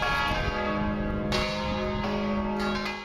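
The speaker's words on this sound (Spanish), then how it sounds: "en su ciudad sonaron 39 campanadas" Church bells toll with loud, overlapping strikes, their deep ringing tones sustaining and blending into one another.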